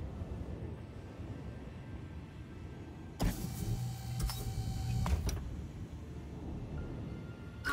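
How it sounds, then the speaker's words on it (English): Landing gear on a spaceship in Star Citizen deploys with a sudden mechanical whir and humming servo tone that runs about two seconds before cutting off, set against a constant low engine rumble. "Landing gear deployed."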